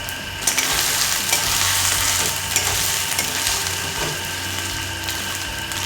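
Chopped onion, crushed garlic and green chilies fry in hot oil for a snakehead fish curry, giving a steady, close sizzle throughout with occasional scraping stirs of a spoon in the pan.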